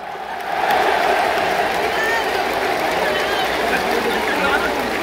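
A huge baseball crowd of Hanshin Tigers fans at Koshien Stadium roars and cheers continuously during a hero interview, a dense wash of voices and noise filling the whole stretch.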